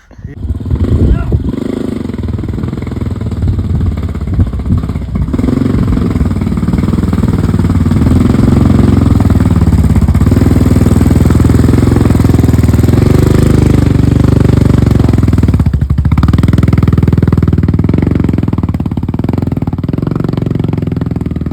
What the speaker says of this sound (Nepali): म पो बाइक कुदाएर उडाउँछु त्यो हेर्नुहोस्